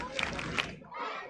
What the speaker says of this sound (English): UCF crowd trying to energize their Knights.